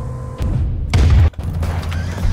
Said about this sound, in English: There's cannons.